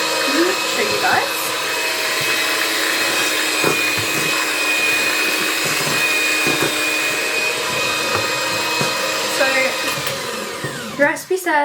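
Electric hand whisks beating brownie batter, a steady loud motor whir held for about eleven seconds with faint bowl clatter, ending in a few knocks as it stops.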